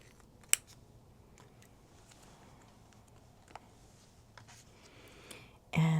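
Scissors cut paper for a reading journal, giving soft, sparse snips and light taps in a quiet room, then a louder handling thump at the very end.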